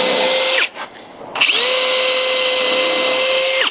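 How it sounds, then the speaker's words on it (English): Power drill with a countersink bit boring screw holes into a timber window frame: a loud whining burst, a brief pause, then a second sustained high-pitched run that winds down at the end. "I'm just going to drill holes where that screw is going to go"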